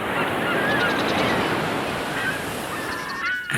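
Seagull cries over crashing rough sea surf and wind, the birds calling in short overlapping squawks against a steady roar of waves.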